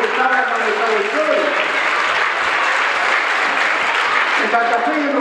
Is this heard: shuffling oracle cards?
no